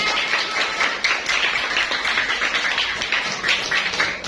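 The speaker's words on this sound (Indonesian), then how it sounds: "tepuk tangan untuk semuanya" A classroom of children claps together in a dense, steady burst of applause that stays loud and close throughout, with no talk over it.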